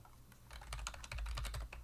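Rapid typing on a computer keyboard, a dense run of close, crisp key clicks that grows busier midway, with no voices.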